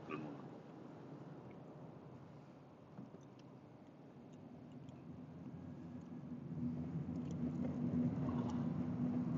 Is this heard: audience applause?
no